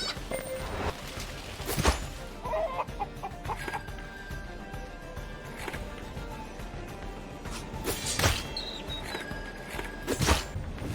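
Chickens clucking in The Serpent Rogue video game, scattered short clucks and squawks popping up every couple of seconds over a steady busy background of game ambience and effects.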